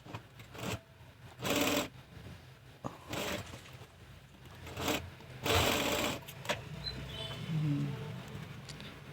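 A sewing machine top-stitches a chudithar pant in several short, fast whirring bursts separated by quiet pauses, close and fairly soft, with faint handling clicks between runs.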